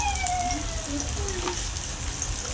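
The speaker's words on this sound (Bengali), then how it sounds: "এবার সব কিছু একটু ভালোভাবে ভেজে নিচ্ছি" Spices with salt and turmeric fry in a pan for a rohu fish and okra curry. A soft, steady sizzle is close by, with faint tonal squeaks over it.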